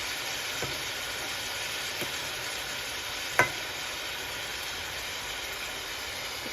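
Minced beef frying in oil in a pan, giving a steady, soft sizzle with a few faint clicks and one brief sharp crackle, heard alone without talking.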